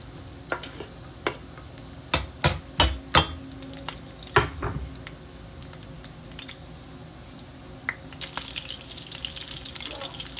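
Garlic frying in hot oil in a pan while cooking Ilokano igado, with a few sharp clanks of a utensil against the pan early on, then a steady sizzle that grows louder and brighter toward the end.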